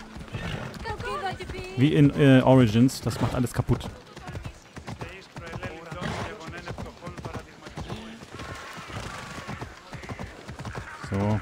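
Horse in Assassin's Creed Odyssey gallops with steady clip-clop hooves and gives a loud whinny early on, mixed with game sounds while someone talks over most of it.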